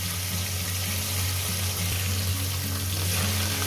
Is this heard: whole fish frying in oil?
yes